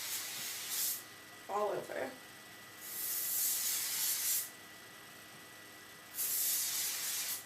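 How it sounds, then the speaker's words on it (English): KQC Thermal Shine heat protectant is sprayed onto hair before curling with a flat iron, in three long, close hissing bursts. A short spoken phrase falls between the first two sprays. "you're going to take your heat protectant spray. I'm using KQC Thermal Shine. And you're going to spray that"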